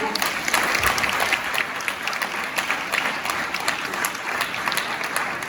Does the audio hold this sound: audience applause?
yes